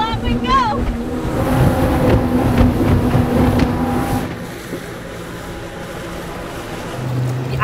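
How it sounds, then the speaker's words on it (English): Electric outboard-driven motorboat cutting through water at around 19 knots, with a steady rush of water and wind noise and no engine roar. A voice speaks over the first few seconds. "there are still noises because you're cutting through water"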